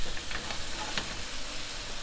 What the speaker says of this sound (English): I hear the sizzling going down a little bit.